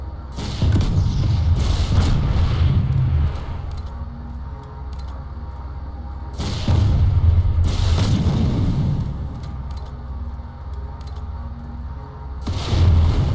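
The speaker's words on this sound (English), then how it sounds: "So, 5 M9 Skep launcher rockets to the side of the Mech Rider sets it on fire." Rockets from an M9 Skep launcher slam into the side armor of a Mech Rider in a video game, sounding as heavy booming blasts that come in loud waves with rumbling decay between them.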